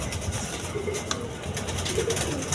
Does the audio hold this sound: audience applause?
no